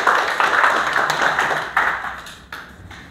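Clapping in a first aid training class: a few people clap in loose, uneven bursts for about three seconds, close and moderately loud, fading toward the end.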